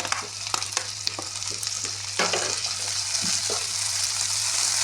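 Tomatoes sizzle in a hot pan over ginger and garlic paste while a utensil stirs them, the frying hiss loud and steady, broken by repeated scraping clicks of the spoon against the pan.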